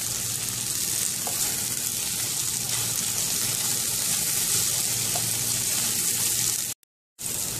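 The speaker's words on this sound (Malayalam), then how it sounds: "ഇനി ഈ ഉള്ളി ഒന്ന് ട്രാൻസ്പെറൻ്റ് ആവുന്നത് വരെ നമുക്കൊന്ന് വഴറ്റി കൊടുക്കാം" Onions with green chillies and curry leaves sautéing in a pan for chicken samosa filling, giving a steady, close, continuous sizzle with no talk, cut by a brief dropout near the end.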